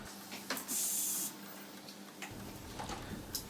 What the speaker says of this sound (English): Here is welding the wire harness into the metal accessories in the switch.